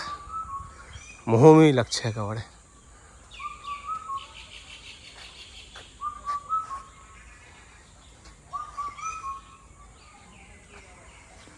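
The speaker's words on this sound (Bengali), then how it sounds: "আর পাখির ডাক" In the forest at Dulali Eco Park in Ghoshpukur, North Bengal, birds repeat short whistled calls and chirps in bursts, some near and some farther off. A person speaks briefly, and a loud close whistle stands out early on.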